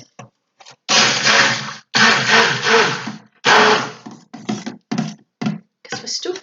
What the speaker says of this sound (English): Just going to give these a little quick blitz again.